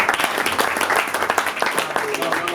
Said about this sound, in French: S'il vous plaît, ici, n'applaudissez pas